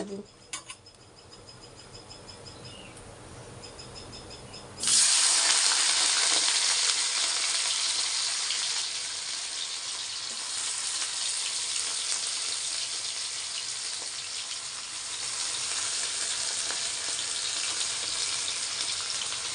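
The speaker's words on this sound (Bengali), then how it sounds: "আমার তেলটা গরম হয়ে যাচ্ছে এবার আমি আলুগুলোকে ছেড়ে" Potatoes drop into hot oil for a chow mein dish: a few quiet clinks, then a sudden loud burst of frying that settles into a steady, close sizzle.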